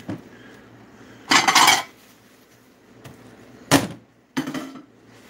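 Plates and dishes handled in a home kitchen while making German Sauerbraten: three loud, clattering bursts of crockery set down and shuffled, separated by quiet pauses, close by with no talk.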